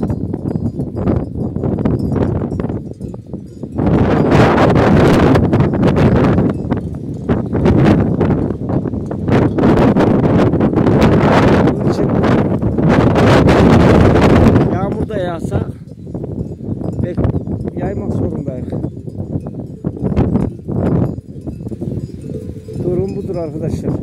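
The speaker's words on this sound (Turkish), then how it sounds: "Çok esiyor arkadaşlar" Strong gusty wind buffets and roars in bursts, rising and falling loudly, with a voice speaking intermittently through it.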